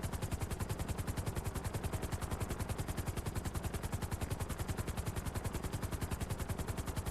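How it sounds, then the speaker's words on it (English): Helicopter rotor in the game GTA, a steady rapid chopping thump at an even rhythm throughout, loud and close with no talk. "I just love flying a helicopter."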